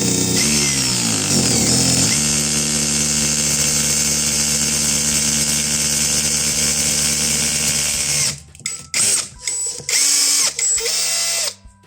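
An electric drill bores a hole in a wall to mount a TV bracket, whining loudly and steadily for about eight seconds, then stopping and starting in several short bursts.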